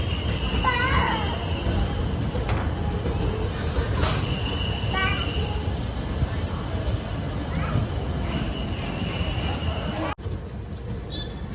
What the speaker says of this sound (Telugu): ట్రైన్ అయితే స్టార్ట్ అయింది ఇక్కడ హొస్పేట్లో